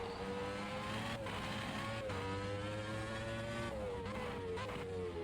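High-pitched V8, V10 and V12 F1 car engines in the racing video game Automobilista 2 scream continuously, revving and shifting pitch as they accelerate, loud and sustained without any talking.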